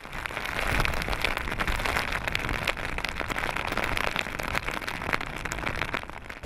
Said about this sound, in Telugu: ఉత్తర కోస్తా, దక్షిణ కోస్తాలో భారీగా వర్షాలు కురుస్తున్నాయి.